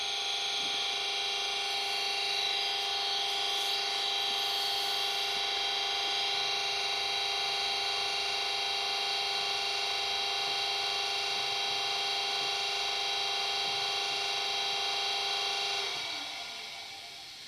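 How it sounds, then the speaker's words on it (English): Compressors run on a JLTRT Class 50 model locomotive: a steady, close mechanical hum with layered tones holds for about sixteen seconds, then cuts off. "compressors for 20 seconds"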